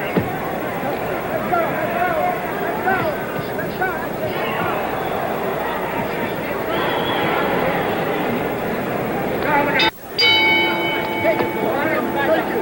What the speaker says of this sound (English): The bell for round 9.